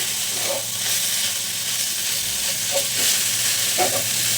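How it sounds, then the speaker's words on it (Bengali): Winter vegetables stir-frying for noodles in a hot pan, a steady loud sizzle with a few soft scrapes of the spatula at intervals. "নেড়ে চেড়ে খুব সুন্দর করে ভাজতে হবে"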